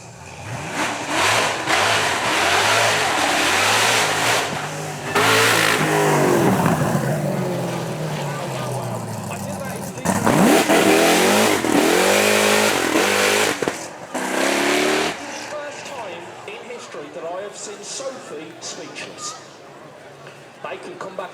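Supercar with a rear-mounted naturally aspirated V8 of 6.2 or 7 litres at a supercar weekend, revving loudly in repeated rising surges up close, with a gap of lower idling, while people talk.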